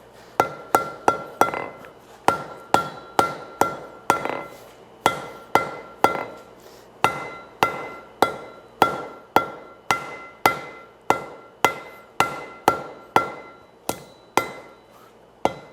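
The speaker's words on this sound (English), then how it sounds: "So I always work it at sort of a welding heat up until I really got it to the shape that I want" Steady rhythmic hammer blows on hot steel at welding heat on an anvil during blacksmith forge welding, each strike ringing with a metallic tone, delivered in quick groups of three to four with brief pauses, close and loud with no talk.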